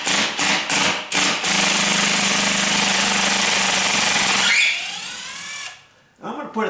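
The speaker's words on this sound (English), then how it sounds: "what you're hearing is a ratcheted drill" A ratcheting drill drives a 3-inch screw into the jamb of a sagging solid-core exterior door, giving a loud, continuous mechanical rattle after a few short bursts, then stopping abruptly. A few quieter knocks follow at the end.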